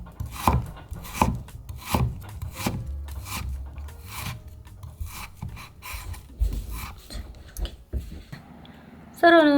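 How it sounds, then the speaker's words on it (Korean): A knife chops through enoki mushrooms on a cutting board, cutting them into thick strips with a rapid, uneven run of close, crisp knocks, followed by a brief clatter at the end. "이렇게 약간 굵직굵직하게 채 썰어 주세요."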